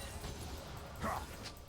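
Dog champion effect from League of Legends gameplay: a brief yelp-like bark stands out around the middle of a soft, continuous game background.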